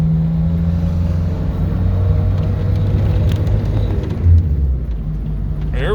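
A 1956 Ford Anglia 100E rumbles loudly from inside the cabin as it drives, with a steady engine drone that shifts pitch around a gear change.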